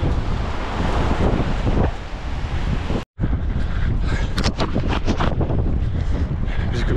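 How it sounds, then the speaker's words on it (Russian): Strong wind buffets an outdoor microphone during a Baltic coastal trail run, a loud continuous roar with gusting surges and a brief dropout midway, no talking. "Ветер дует, хотя бы освежает."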